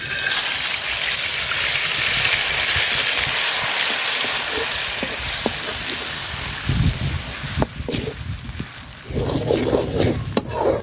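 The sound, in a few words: spice paste frying in oil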